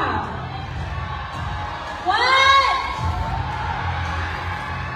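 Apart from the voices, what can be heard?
audience screaming and cheering for Miss Global finalists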